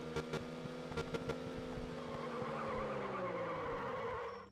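A video-game car drifts with a long, loud tire squeal over a steady engine whine, preceded by a few sharp clicks, ending abruptly.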